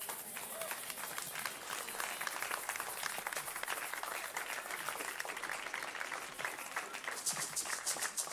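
A church congregation applauds in a sustained, dense burst of clapping that fills the space evenly throughout, many hands at once with no individual voices standing out.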